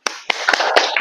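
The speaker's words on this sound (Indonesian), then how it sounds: "Tepuk tangan dulu." A classroom gives a brief round of applause, a few sharp, close hand claps and taps spaced unevenly across a second, with no voices over them.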